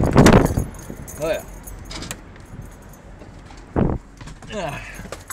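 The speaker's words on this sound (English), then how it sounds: "unlock my truck in order to get in" Keys jangle sharply up close as a truck is unlocked, a loud burst of metallic rattling followed by a couple of shorter jingles, with brief talking in between.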